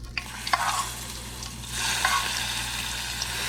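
Cooked bacon drops into a hot pot for oyster chowder, setting off a steady, close broadband sizzle with a few brief clinks and a surge of frying noise partway through.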